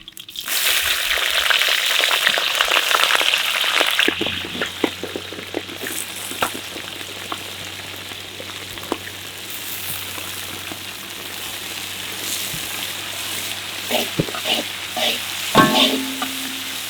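Onions and green chillies hit hot oil with whole spices in a village cookpot, a loud burst of sizzling that settles into steady frying with intermittent stirring scrapes and clinks.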